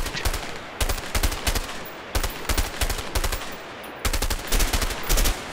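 Automatic gunfire from a weapon in the video game A Way Out, in several short rapid bursts separated by brief pauses, loud and close.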